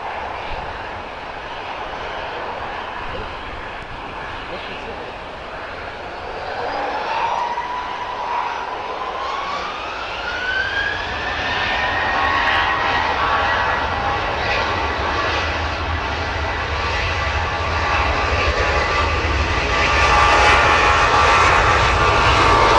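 A propeller airplane's engines drone as it approaches and lands, the whine shifting in pitch and growing louder and closer, with steady wind noise beneath.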